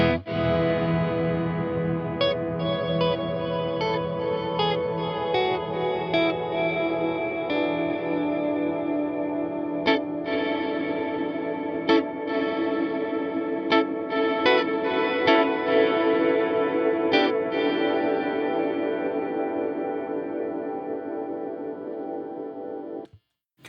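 An electric guitar runs through an Electro-Harmonix Cathedral reverb pedal set for long decay, with picked notes and chords washing into a sustained, shimmering tail that lingers between phrases, steady and alone until a sudden cut.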